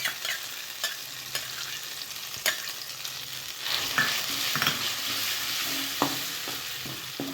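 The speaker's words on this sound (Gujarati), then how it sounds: "ગરમ કરવાનું ઘીને ઘી સહેજ ઓગળી જાય એટલે પેસ્ટ એમાં ઉમેરી દેવાની" Green chickpea paste for barfi is stirred into melted ghee in a pan. Scattered spoon scrapes and taps sound close over a steady, soft sizzle throughout.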